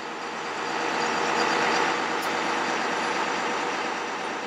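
A 2005 International 4300 4x2 bucket truck with an Altec TA45M boom idles with its PTO engaged, giving a steady diesel rumble and whine that rises slightly and then holds.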